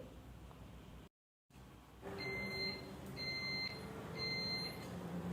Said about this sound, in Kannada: ಎಲೆಕ್ಟ್ರಿಕ್ ಕುಕ್ಕರ್ ಬೀಪ್ ಸಹ ಆಯಿತು ರೆಡಿಯಾಗಿದೆ